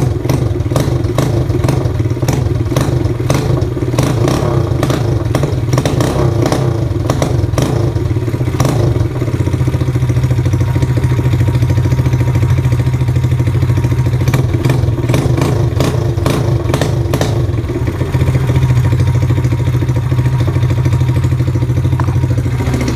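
Loncin 125 motorcycle engine with no exhaust fitted, running loud and steady with a dense low rumble and repeated sharp clattering bursts throughout, no talk.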